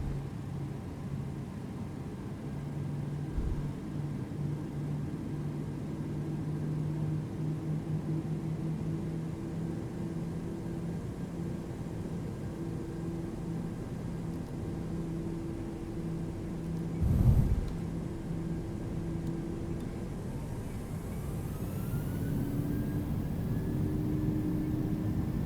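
Airliner engines spooling to takeoff thrust in Microsoft Flight Simulator 2020, a steady droning roar with layered tonal hums, a brief thump midway and a rising whine toward the end, with no speech over it.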